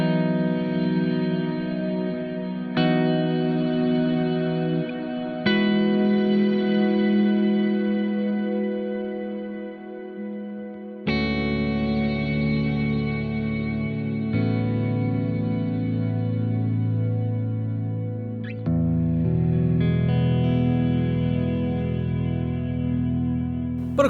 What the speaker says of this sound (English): This is the Cirrus reverb on its strings setting.